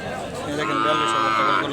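A dairy cow moos once in a long, drawn-out low call, fairly close, with faint background voices.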